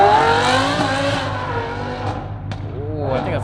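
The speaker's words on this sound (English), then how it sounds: "I think that's like a high-pitched exhaust." A supercar engine revs hard with a high-pitched exhaust wail that rises and drops, followed by sharp pops and a second shorter rev.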